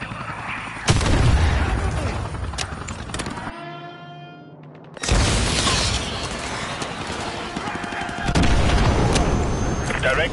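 Call of Duty: Modern Warfare 2 Remastered gameplay with AGM missiles launched at an enemy helicopter. Loud, close bursts of firing and booming impacts come in dense waves, broken by a short, quieter tonal stretch in the middle.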